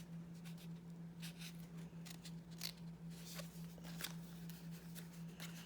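Scissors snipping through paper for a scrapbook layout, a run of close, crisp cuts in short bursts over a steady low hum, with no talk.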